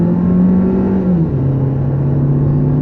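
A 2016 Chevrolet Cruze 2LT engine drones loudly from inside the cabin under half throttle, its pitch climbing steadily, then dropping sharply at a crisp gear shift and settling at a lower hum, with no talking.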